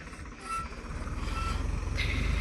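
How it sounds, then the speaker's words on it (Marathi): A tractor turning on a farm field while spreading manure, its diesel engine chugging in a low rapid pulse, steady and fairly close, with a faint tone or beep above it. "बा आता वळत आहे ट्रॅक्टर"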